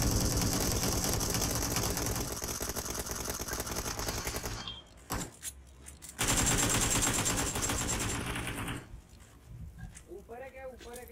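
Sustained rapid automatic gunfire in PUBG Mobile, loud and continuous, stopping briefly then resuming in another long burst before dropping away, with voices shouting over the shooting.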